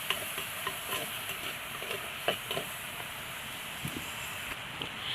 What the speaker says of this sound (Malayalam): ചെറിയുള്ളി, വെളുത്തുള്ളി, ഇഞ്ചി, സവാള കട്ട് ചെയ്തിട്ട് കൊടുക്കാം. ഇതൊന്ന് ഇളക്കി കൊടുക്കണം.